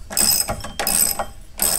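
A hand ratchet snugs down a bolt while a DIRS part is installed on a car, three bursts of quick clicking pawl ticks coming close and clear with short pauses between them.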